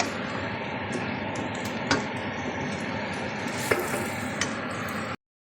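Tomato sauce for an Emirati-style fish kabsa fries in a pan, giving a steady, close sizzle for about five seconds with a few sharp clicks and scrapes as it is stirred.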